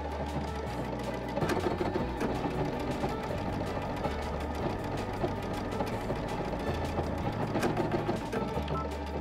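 An electric sewing machine stitches in bursts at close range, its motor whirring and pausing in short runs with rapid needle clatter during each run.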